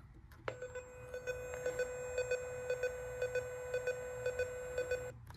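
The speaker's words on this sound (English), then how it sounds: "if you plug in a test set, any test set, you will hear a very particular sound, which is different than analog phone." Nortel Meridian digital line tone on a telephone test set plugged into a CS1000 PBX: a steady electronic tone with pulsing beeps at a regular rhythm, loud and close, alone for about five seconds.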